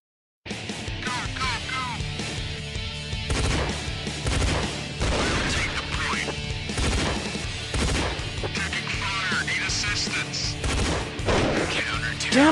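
Dense, continuous gunfire from an online multiplayer shooting video game, with overlapping shots and crashing effects that stay loud and busy throughout, without a break.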